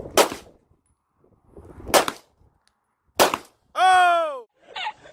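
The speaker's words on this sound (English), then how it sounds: "The first gun we decided to start with is gonna be the Canon SFX" Three sharp Canon SFX gun shots ring out at a water jug, spaced about 1.5 seconds apart, each a loud crack with a brief tail, followed by a short whistle-like tonal sound.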